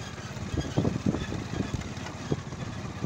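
A motorcycle labours uphill on a rough, unpaved village road in Pakistan. It gives a faint, low engine putter with irregular thumps and rattles, and no voices.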